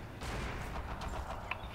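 Naval gunfire from a destroyer booms in Forgotten Hope 2, with several dull, distant thuds in quick succession over a rumbling battlefield background, faint and muffled.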